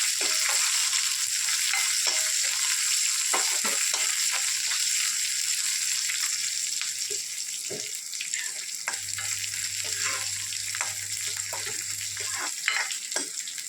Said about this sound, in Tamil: கொஞ்சம் சாம்பார் வெங்காயம் கட் பண்ணி நீட்டாக கட் பண்ணி வச்சுட்டேன். அது நல்லா வதக்கிடலாங்க.